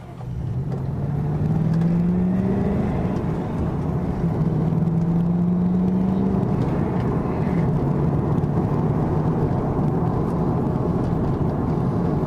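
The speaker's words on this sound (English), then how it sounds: "This thing gets down the road so quickly, it drives so nicely." 2001 Qvale Mangusta with a 302 crate engine drives along the road, a steady loud engine drone that rises in pitch through two gear pulls, heard alone without talk.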